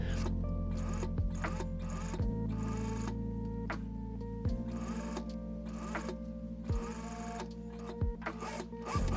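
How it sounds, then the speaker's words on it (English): A sewing machine stitches the inside seam of a fabric hat, running as a steady close mechanical whir with regular rhythmic ticks and occasional pauses and restarts. "Stitch the inside of the hat with a seam allowance of 7 millimeters."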